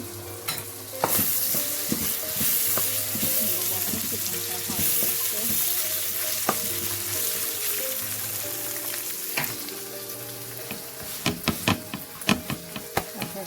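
Chicken frying on a stove gives a steady close sizzle throughout, with occasional utensil clinks and stirring taps that grow more frequent toward the end.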